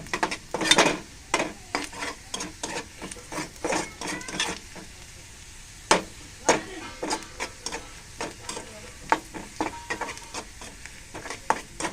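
Onions browning in a pan for a dal tempering, with steady stirring and repeated scrapes and clinks of a utensil against the pan over a soft sizzle, close and fairly loud.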